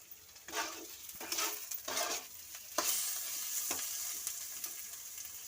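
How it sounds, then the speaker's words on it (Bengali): Masala with tomatoes and salt fries in a pan while a spoon stirs it, giving bursts of scraping and rustling over a steady sizzle, close up, with no talk. "দিয়ে এবার নাড়বো মশলাটাকে ভালো করে"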